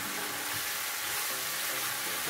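Sliced eggplant sizzles in a hot frying pan during a stovetop sauce of eggplant and onions, with a dense, continuous hissing crackle heard close up and no talking.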